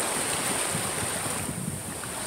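Ocean surf washing onto a beach with cold water, a steady broadband rush of waves mixed with wind buffeting the microphone, continuous and fairly loud with no talk.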